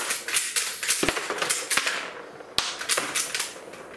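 Plastic shell casings flipped out of an Umarex Legends CO2 .177 cowboy rifle, a run of sharp, close clicks and clacks with a few louder snaps, no talking.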